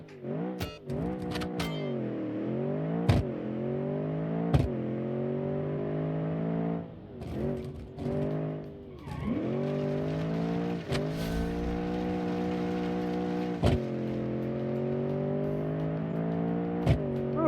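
A 427 hp Mercedes-inspired modified sport wagon accelerates hard in a racing game, its engine rising through several gears with sharp upshift breaks, loud and close, then holding a steady high drone.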